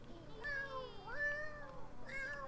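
Several cats in the video game The Sims 4 meow in turn, with long wavering cries, two overlapping near the middle, against a low steady background hum.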